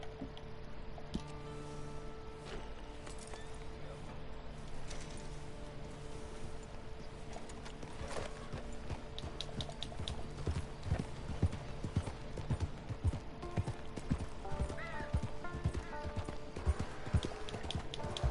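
Steady clip-clop of horse hooves trotting along in Red Dead Redemption 2, mixed with game ambience and occasional faint whinnies, with no talking.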